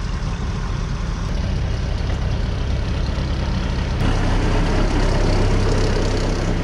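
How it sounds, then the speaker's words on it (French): A small farm tractor's engine idles close by at a steady, loud, low rumble, unchanging throughout, with no speech over it. "Pour le coup, c'est son tracteur."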